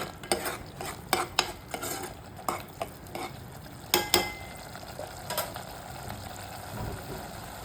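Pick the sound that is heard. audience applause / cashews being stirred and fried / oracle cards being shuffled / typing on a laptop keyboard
cashews being stirred and fried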